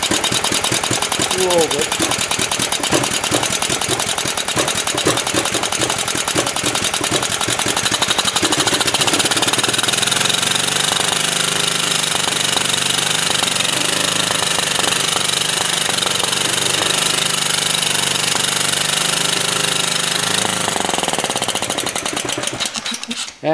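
A warm Generac G-850 portable generator, running lean, starts and runs with a loud, steady, rapid engine clatter that drops off near the end. Someone talks over it.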